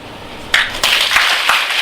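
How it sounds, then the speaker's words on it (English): A workshop group at a medical centre claps together, giving a few separate bursts of loud clapping close together rather than one clean, single clap. "Close your eyes and clap once with full vigor."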